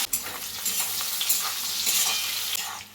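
Salted, turmeric-coated dried fish (shutki) frying in hot oil in a wok, a close, steady hiss and crackle with scraping stir strokes throughout.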